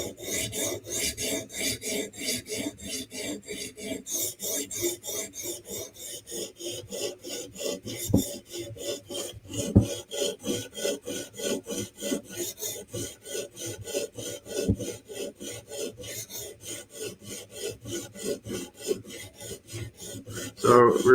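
A knife edge is honed on a stone in a Hapstone RS guided sharpening system, with steady rapid rasping strokes in an even back-and-forth rhythm, close and fairly loud, with a few sharper clicks.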